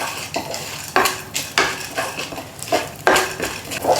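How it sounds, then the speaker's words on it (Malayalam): Fenugreek, urad dal, chana dal and coriander seeds are dry-roasted in a pan over medium heat, with sharp metallic spoon scrapes and clinks against the pan in an irregular stirring rhythm, close and fairly loud. "ഒരു മീഡിയം ഫയറിൽ വേണം വറുക്കാൻ."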